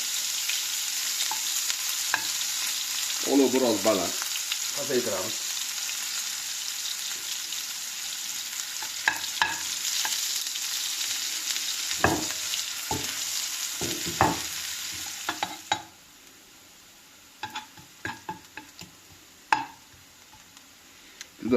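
Onions frying in cottonseed oil in a pan, a steady loud sizzle with scraping stirs throughout, close up; a person talks briefly over it before the sizzle drops away and scattered stirring clatters continue.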